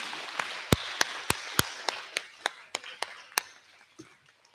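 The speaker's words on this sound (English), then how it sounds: "If we could have a nice big round of applause for these students." Sparse, steady clapping from a small group at a school awards ceremony, honoring straight-A sixth graders; crisp separate claps about every third of a second that gradually soften and thin out, with no talking.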